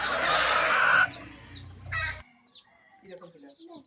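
Native hens clucking in short, scattered calls on a poultry farm after a stretch of louder background noise, fairly close and moderately loud.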